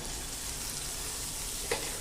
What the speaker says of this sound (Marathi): आता ही जी फोडणी आहे ही आपण या सारावरती घालूया.